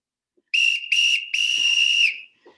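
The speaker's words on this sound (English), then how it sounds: "Apparently Bella doesn't like that whistle." A workout whistle blows three shrill blasts, two short and one long, piercingly loud and close, with faint rustling afterward and no talking.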